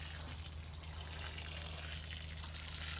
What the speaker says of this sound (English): We are going to water these cells with this very hot water.